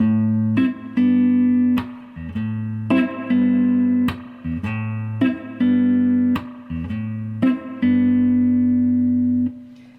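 A clean electric guitar plays a repeating rhythmic groove of chords with short muted strums between sustained hits, close and steady, with no voices.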